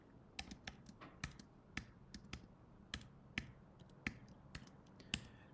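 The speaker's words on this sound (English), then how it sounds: "I'm going to type this stuff in over here" Sparse, distinct keystrokes on a computer keyboard, single sharp clicks at uneven intervals, close and fairly quiet with no talking.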